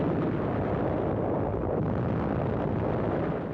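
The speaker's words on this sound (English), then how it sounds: "Artillery shells score direct hits on Japanese positions" A WWII artillery barrage on Japanese positions, heard as a sustained, loud, broadband roar of shell blasts with no talking.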